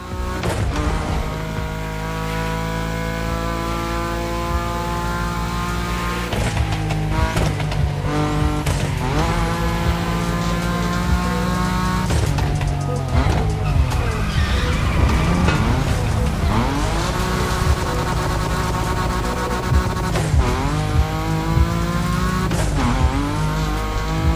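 A car drifts on the festival drifting track in The Crew Motorfest racing game, its engine revving loudly as tires squeal in long, repeated wails across the run, with no talk over the action.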